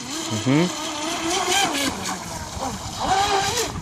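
A Hobbyking Hydrotek F1 self-righting RC boat running through choppy water, its motor whining and rising and falling in pitch with the waves, while people talk excitedly over it.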